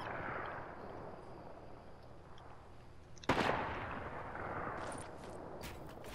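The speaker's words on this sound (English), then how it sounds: "You're getting sniped at." A single sharp sniper shot cracks out midway during a Fortnite match on PS4, loud against a low background rumble and followed by a few faint clicks and game effects.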